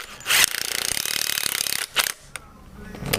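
A power impact wrench whirs and rattles in a steady burst while tightening the rear wheel bolts on a GoPed scooter, followed by a few short clanks and a second brief burst near the end.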